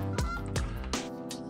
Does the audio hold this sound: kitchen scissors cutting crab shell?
no